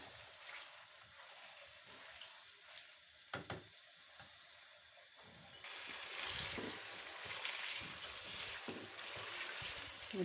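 Chicken pieces hit hot oil in a karahi and fry on medium heat: quiet at first with a couple of knocks, then a loud, dense, continuous sizzle swells in and holds to the end, with no talking.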